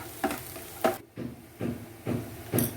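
Spices such as cumin and fennel seeds with vegetables are stirred in a frying pan, giving a soft sizzle under five or six rhythmic scraping strokes of a spoon against the pan.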